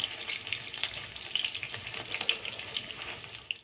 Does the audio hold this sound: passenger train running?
no